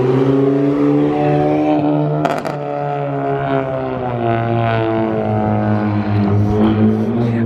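A car fitted with a catless downpipe and front pipe revs up and settles, its loud raspy exhaust drone rising and falling in pitch with a brief crackle partway through, close to the microphone.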